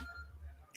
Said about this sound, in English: Oh, that's my boyfriend's phone. If you can hear that in the background,